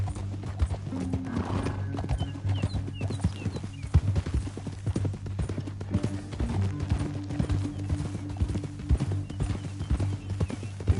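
Steady clip-clop of horse hooves at a trotting rhythm in the video game Red Dead Redemption 2, fairly close and continuous, with a faint whinny partway through and no talking.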